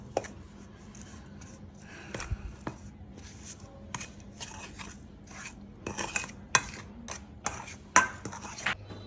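Spices, turmeric, chilli, cinnamon and salt, worked by hand into a bitter gourd and cauliflower chop mixture in a kitchen, giving soft irregular squelches with occasional sharper clinks of a spoon or bowl, close and moderately quiet.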